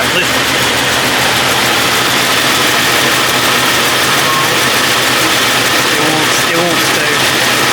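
A car engine with rebuilt pistons idles roughly up close, a dense steady mechanical roar with a lifter tick and vibration running throughout.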